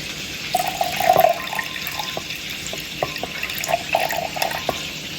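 Pineapple juice pouring into a measuring cup, a light trickling liquid stream with a few splashy bursts, fairly close and steady, no speech.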